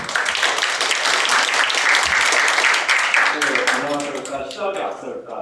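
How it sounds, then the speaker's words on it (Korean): An audience at a youth history research competition in South Jeollanam-do, Korea, gives steady, fairly loud applause that thins out toward the end as a voice begins speaking. "큰 박수 주시고요."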